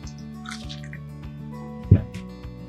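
Water poured into a Johnny cake batter mixture, a soft close trickle and drip with a brief louder splash near the end, mostly alone without talk.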